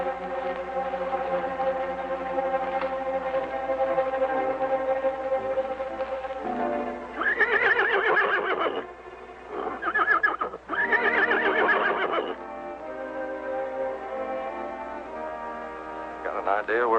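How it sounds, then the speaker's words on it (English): Several loud horse whinnies break out in bursts over a steady, music-like background, each neigh shrill and wavering, close and prominent. "Even your horse Thunder agrees with me."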